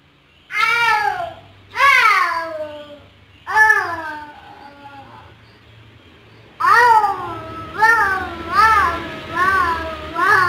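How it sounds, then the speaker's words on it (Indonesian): A cat meows repeatedly in drawn-out, whiny calls during play, close by, with several in a quick run toward the end and quiet gaps between. "Emang kucing gitu ya bunyinya."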